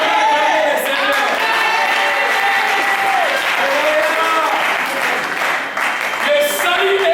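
A church congregation applauds and cheers in acclaim of the Lord, loud continuous clapping from a large crowd with voices and a sung tone rising through it.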